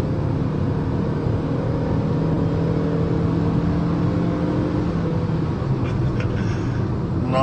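Suzuki Grand Vitara 2023 hybrid accelerating from 0 to 100 km/h, a loud steady engine drone with rising tones that shifts down near the end, heard from inside the car.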